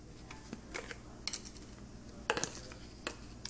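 Top comes off a garlic powder container in a home kitchen: a few light clicks and small plastic clatters, sparse and close, over a quiet background hum.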